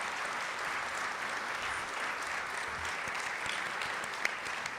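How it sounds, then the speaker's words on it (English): A luncheon crowd at an advertising awards event gives a sustained round of applause for a team, dense even clapping throughout at a moderate distance, no voices over it. "Give them a round of applause."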